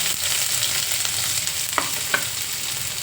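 Mustard seeds, cumin and onion fry in a pan with a steady close sizzle, broken by a couple of brief stirring clicks and spatters.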